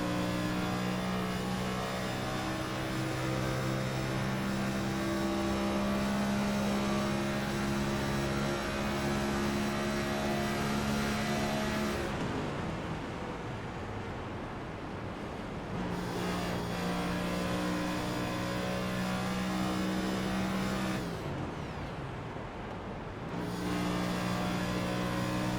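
Onboard race car engine in an iRacing event at Indianapolis, a loud sustained high-revving drone with steady harmonic whine, dipping twice briefly as the car lifts through corners before climbing again.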